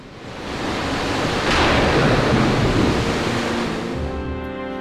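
Stormy sea from the Final Fantasy PS1 game, a loud continuous roar of raging surf and wind that swells to a peak midway and then eases, with low rumbling underneath suggesting thunder.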